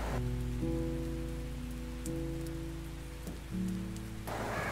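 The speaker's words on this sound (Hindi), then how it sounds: "आज बाहर जोरदार बारिश हो रही थी" Steady rain falls on a surface with a low, sustained droning tone running underneath the whole time, no voices.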